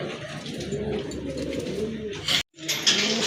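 Pigeons coo softly and steadily at close range, with a brief cutout near the end and surrounding chatter.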